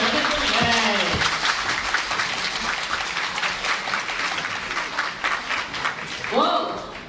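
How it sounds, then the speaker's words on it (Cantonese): A game show studio audience applauds as two contestants are brought out for a cup-stacking challenge, a dense broadband wash of clapping that holds steady throughout, with a host's voice over it at the start and a cheer near the end. "熱烈嘅掌聲歡迎佢哋"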